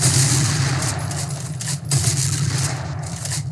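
Charged weapon firing in a video game, heard as a dense, continuous burst of rapid gunfire with a steady hiss and low rumble for a few seconds, loud and without talk.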